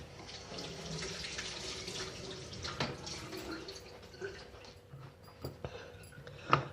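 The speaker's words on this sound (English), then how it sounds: "There's the celery. I'm just going to rinse this." Water runs from a tap into a sink with splashing and a few knocks and clatters as celery is rinsed, fairly quiet and close.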